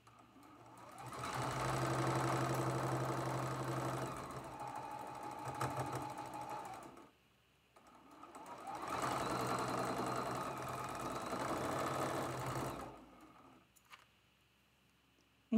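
A sewing machine stitches a seam on a traditional Bear Tracks quilt block in two steady runs of several seconds each, separated by a short pause, close and even-toned, followed by near silence.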